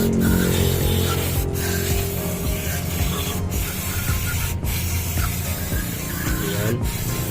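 Spray cleaner hisses in repeated bursts with scrubbing and rubbing while a Suzuki DA17W automatic transmission solenoid and valve body are cleaned, close and steady.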